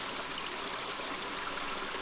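A rushing river flows in King's Quest V near a bakehouse along an old rutted road, a steady broadband watery hiss with no pauses, alone and fairly close.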